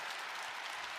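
Audience applause at a Lent lecture given by a priest, a dense steady clapping from a crowd filling the whole moment without a break.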